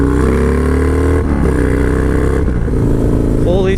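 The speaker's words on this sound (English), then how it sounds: "it's my first time ever riding a motorcycle in Texas as well" Harley-Davidson Dyna Low Rider S motorcycle being ridden on the road in Texas, its engine droning loud and steady with rising and falling pitch as it shifts and accelerates, with wind noise and faint talk beneath.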